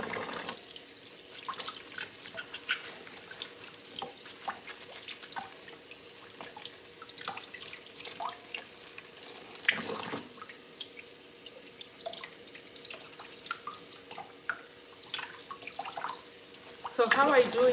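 Running tap water pours steadily over collard greens leaves as they are washed and scrubbed one at a time in a sink, with faint drips and splashes throughout and a louder gush near the end.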